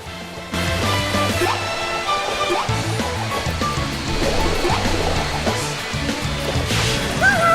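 Waterfall water rushing in the Sonic Lost World video game, a loud, continuous washing roar that begins abruptly and holds steady, layered under game music.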